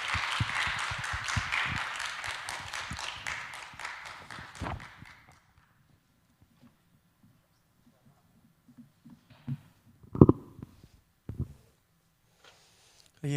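A church congregation at an evening worship gathering claps to welcome the guest pastor, a few seconds of moderate applause fading out, followed by quiet with scattered footsteps and small knocks.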